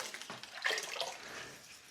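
Broth and water pour into a pot for caldo verde soup, a steady splashing gush that swells after the first moment and runs on close and fairly loud for about two seconds.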